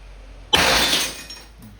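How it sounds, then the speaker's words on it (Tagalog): A glass gin bottle bursts when hit by a .50-caliber rubber ball fired from an Umarex T4E TP50 CO2 airgun. A single sharp crash is followed by about a second of bright, tinkling shatter that fades into quiet room noise. "So nakita nyo naman, one shot lang basag na."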